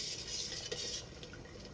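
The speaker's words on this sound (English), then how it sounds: "We're just going to mix it well" Comfrey salve mixture being stirred in a pan as it melts, a steady scraping swirl of utensil against metal with a faint sizzling hiss underneath, close and continuous.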